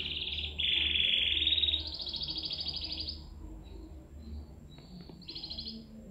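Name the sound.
young canary singing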